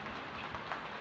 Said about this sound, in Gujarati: થરાની અંદર વાવાઝોડા સાથે વરસાદ